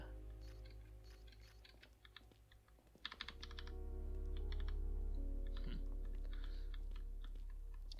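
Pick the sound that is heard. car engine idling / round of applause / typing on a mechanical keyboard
typing on a mechanical keyboard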